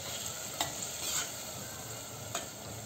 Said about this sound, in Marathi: आता हे छान परतून घेऊया.